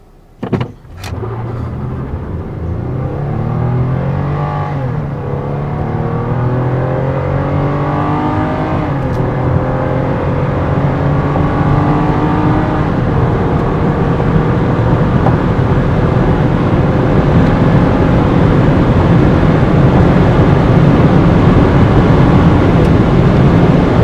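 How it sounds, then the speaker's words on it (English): A 2013 Lexus ES350 accelerates hard from a standstill to 120 mph, a loud continuous engine note climbing in pitch through repeated gear changes, heard alone after a brief opening thump. "right here actually is the 0 to 120 test"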